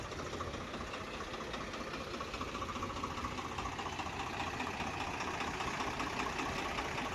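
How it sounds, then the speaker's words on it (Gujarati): A tractor engine runs at a steady idle, its even, rapid chugging and knocking throb continuing unchanged, moderately distant and fairly quiet, with no one speaking. "જો હવે આપણે ઘનશ્યામ ટ્રેક્ટર લઈને આવે છે"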